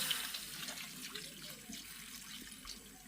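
Water streams steadily into a cooking pot with crab and tamarind, a soft, continuous splashing rush, close and fairly quiet.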